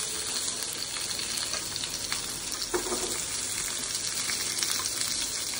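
Chopped onions and green chillies frying in a pan for a moringa flower egg stir-fry, a loud, close, continuous sizzle with scraping stirs and no talk.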